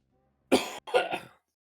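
Two quick, close coughs with a throaty rasp, one right after the other, then silence.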